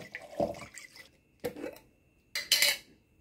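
Broad bean salad dressing being mixed: three short scraping clinks of a utensil against a bowl, close and crisp, with quiet gaps between.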